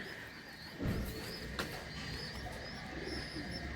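Chinese teddy pigeons, a male among them, coo softly in a loft, with low murmuring calls and faint chirps over steady background noise.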